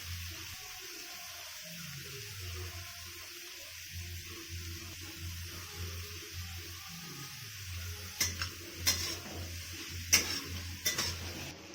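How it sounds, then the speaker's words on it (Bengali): Vegetables for chowmein fry in oil with a quiet, steady sizzle over a low humming background, later joined by a few sharp scraping and stirring knocks near the end, no talking. "ওই তেলের মধ্যে এবার সবজিগুলো দিয়ে দিচ্ছি। সবজিগুলো ভালো করে ভেজে নিতে হবে।"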